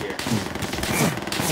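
Light machine gun fire in Call of Duty: World at War on a Belarus-level Eastern Front battlefield, rapid dense bursts running continuously with other battle noise.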